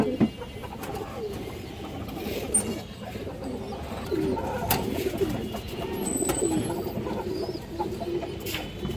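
Pigeons kept by a breeder, healthy birds in a loft, coo softly and repeatedly at close range over a busy murmur of other birds and clucking fowl, with no voices.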